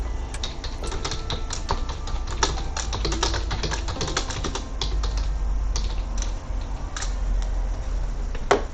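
Steady, rapid clatter of keys on a computer keyboard, close and dense, running continuously with no voices over it.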